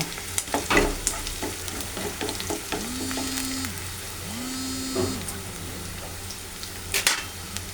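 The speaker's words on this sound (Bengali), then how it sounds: "আমার পেঁয়াজ মরিচ ভাজা হয়ে গেছে, আমি এখন শাক দিয়ে দেব" Bottle gourd greens with onion and chili fry in a pan, sizzling steadily while a utensil stirs and scrapes with irregular clinks, and two short rising-falling whines are heard near the middle.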